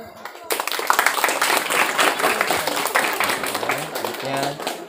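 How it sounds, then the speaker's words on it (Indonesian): Audience clapping at a late-night literary evening held for the Saraswati holy day in Buol, a dense, steady patter of hands lasting several seconds, with voices and crowd chatter mixed in. "Oke, tepuk tangan."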